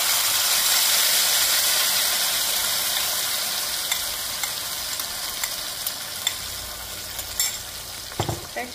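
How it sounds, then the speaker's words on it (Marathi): Onion and tomato paste hits a hot pan with cumin and mustard seeds and sizzles loudly. The frying gradually quiets, and a few sharp clicks of stirring come through near the end. "मोहरी आणि ही आपली कांदा आणि टोमॅटोची पेस्ट टाकायची आहे।"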